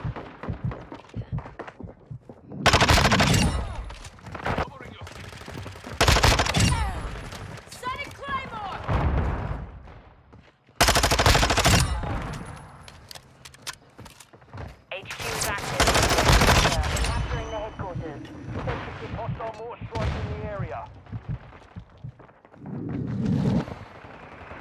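Vaznev-9K submachine gun firing in Modern Warfare 2: several sharp, loud automatic bursts at irregular intervals, mixed with game radio chatter and a player talking between and over the shots.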